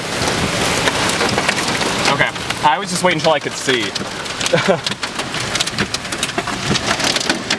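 Heavy rain pours down during a high-precipitation supercell storm near Rossville, Illinois, with thunder rumbling beneath the steady downpour. Someone speaks briefly midway through as the rain keeps hammering close by.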